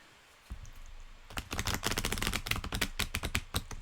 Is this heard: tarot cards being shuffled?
yes